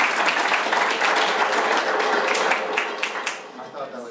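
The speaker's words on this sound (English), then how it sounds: "Give a round of applause." An audience at an improv comedy show applauds, a bright crowd of clapping hands that holds steady and then thins out and fades toward the end, with some voices mingled in.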